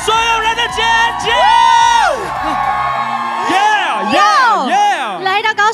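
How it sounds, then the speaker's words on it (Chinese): A crowd at an awards red carpet in Kaohsiung screams, whoops and cheers loudly, with overlapping rising shrieks and yells that rise and fall in waves, near and intense, while an amplified voice shouts over them. "让我听到现场所有人的尖叫"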